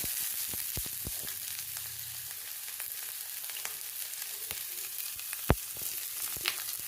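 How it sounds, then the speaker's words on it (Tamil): Dried red chillies, onion, ginger, green chilli and curry leaves sautéing in a pan: a soft continuous frying hiss with a few sharp pops and clicks scattered throughout, fairly quiet and close, no talking. "இது கொஞ்சம் நல்லா வதங்கட்டும்."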